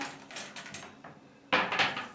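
Dishes clink and clatter as they are loaded into a dishwasher, a few scattered knocks followed by a louder rattle of crockery near the end.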